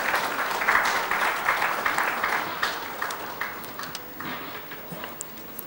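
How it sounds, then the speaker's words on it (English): Scattered applause from a conference audience at a trade-association convention session, strongest at the start and thinning out over several seconds, fairly distant. "Let's have another warm round of applause."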